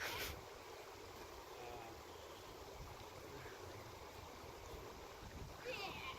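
A Sierra creek rushes steadily at a river crossing, a continuous broadband wash of flowing water close by, with brief faint voices at the start and end.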